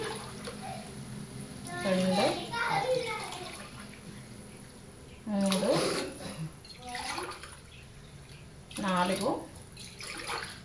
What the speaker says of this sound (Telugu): ఇప్పుడు 5 గ్లాసులు వాటర్ వేస్తాను.